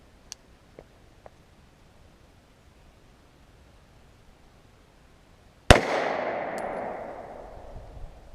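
A single sharp gunshot from a firearm loaded with two-year-old ammunition cracks out after several seconds of near silence, followed by a trailing rumble of echo as it fades.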